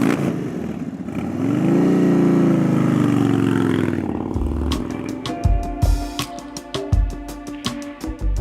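A custom Indian Sport Chief motorcycle engine swells in a loud, sustained rev for several seconds, then drops away into a series of sharp clicks and ticking knocks.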